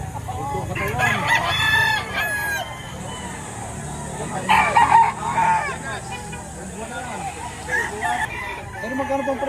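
Roosters crow repeatedly and hens cluck at a Saturday chicken market in Lipa, Batangas, the calls loud and close over a background babble of people talking.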